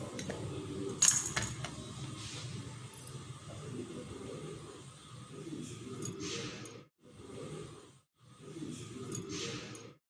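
A metal plate and a heavy weight set down on top of masala paneer in a home kitchen, giving one bright clink near the start, then a low, steady background hum with a few faint knocks.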